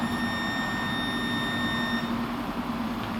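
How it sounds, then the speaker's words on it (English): A Kwikset Home Connect 620 smart lock confirms an entered code: a steady electronic tone rings with high harmonic whines for about two seconds, then fades into a constant low hum. "You hear a lone beep. That means the code is entered"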